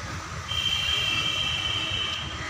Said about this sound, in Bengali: ট্রেন এসে গেছে।